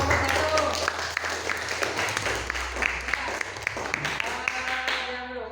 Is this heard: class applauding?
yes